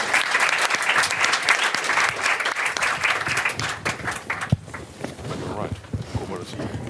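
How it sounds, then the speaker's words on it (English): Conference audience applauding a battery research panel, a dense, lively burst of many hands that thins out partway through as voices and room noise take over. "A big applause to them"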